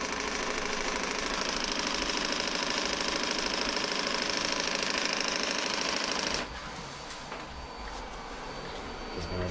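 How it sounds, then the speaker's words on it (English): A Shark robot vacuum docking at its self-empty base gives a loud, steady whirring suction roar that cuts off abruptly after about six seconds, leaving a quieter mechanical hum. "it's going to dock there, and then it'll suck out any dirt"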